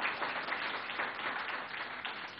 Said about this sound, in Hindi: आइए जोरदार तालियों के साथ स्वागत करते हैं उत्तर प्रदेश के नए मुख्यमंत्री